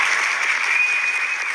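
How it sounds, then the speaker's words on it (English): A studio audience applauds and cheers in a dense, steady wash of clapping, loud and continuous throughout the brief moment. "his audience is cheering"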